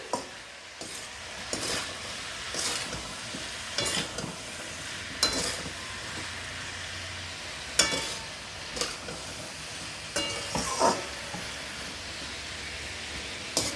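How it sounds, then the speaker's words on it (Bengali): Flattened rice pulao with turmeric and vegetables is stirred in a pan, a spoon scraping in repeated strokes every second or so over a faint steady sizzle, close and fairly quiet with no voices. "এবার নাড়িয়ে নেব ভালো করে, এটাকে মিশিয়ে নিই ভালো করে।"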